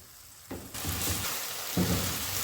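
A pan of stock thickened with cornflour, cooking for a chicken bread roll filling, bursts into a bright, close sizzle that swells and holds steady with a few louder surges.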